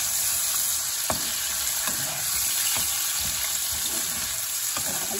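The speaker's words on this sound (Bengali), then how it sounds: "পেঁয়াজটাও অল্প ভাজা হবে।" Onion and potato fry steadily in hot oil, a dense continuous sizzle with a few sharp stirring scrapes and spatters, close and fairly loud with no talking.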